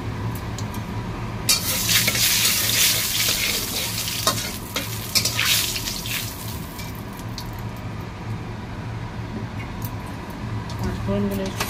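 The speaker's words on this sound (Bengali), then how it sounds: "ফোড়নগুলো খুব অল্প তেলে করছি" Panch phoron, the Bengali five-spice tempering, fries in a little hot oil, a bright crackling sizzle that swells early and then settles into a softer hiss, with some talk in the background.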